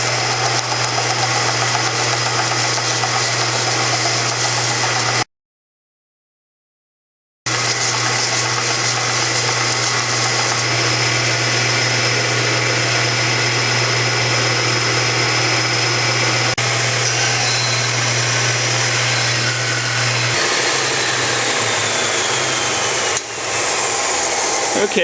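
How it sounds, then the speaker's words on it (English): A belt sander flattens the edge of a guitar part on a 1960s Gibson J-45 acoustic guitar under repair, a steady loud motor drone with belt hum running throughout, with a short break and a shift in pitch near the end. "So what I'm going to do is lay this edge on the sander, on the belt sander, and make a flat spot."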